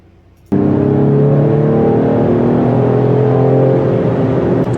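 A Ford Explorer's engine, with its sound artificially generated inside the cabin, kicks in abruptly and holds a loud, steady, harmonic revving drone for several seconds, close and with no talking.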